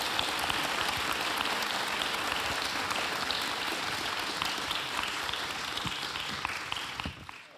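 An audience at a formal celebration of the 75th anniversary of the UN human rights declaration applauds, a dense continuous clapping that holds steady for several seconds before tapering off at the end.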